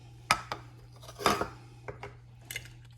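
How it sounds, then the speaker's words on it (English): Ceviche ingredients are tipped into a bowl with a few sharp clinks and taps of utensils against the dish, spaced irregularly in a quiet kitchen. "I'm gonna add all the ingredients into this bowl"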